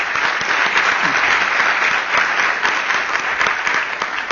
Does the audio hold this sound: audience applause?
yes